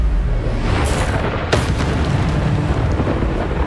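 Loud spell explosions from a Hogwarts Legacy battle: a sharp blast at the midpoint rides over a sustained rumbling roar of chaotic combat noise that fills the whole stretch.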